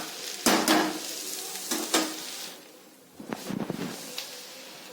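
Wheat flour noodles dropped into a pot and stirred with a spoon, several sharp clanks and scrapes against the metal over a light sizzle, close and fairly loud, no talking.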